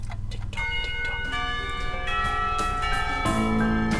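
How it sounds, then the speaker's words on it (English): A school bell chimes in the Katawa Shoujo visual novel, a sustained ringing tone with layered overtones that holds steadily for several seconds alongside soft background music. "When the final bell sounds"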